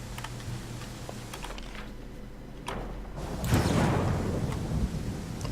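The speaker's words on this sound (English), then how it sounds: "So much thunder." Thunder in the fantasy role-playing video game Pathfinder: Kingmaker, a low rolling rumble under steady rain-like hiss, swelling louder toward the end, with faint clicks of keyboard typing scattered through.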